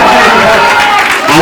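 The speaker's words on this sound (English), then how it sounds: "everyone, you all are going to clap for this player" A burst of loud, dense clapping and crowd noise from an audience cheering a player at a traditional birthday celebration, close and continuous.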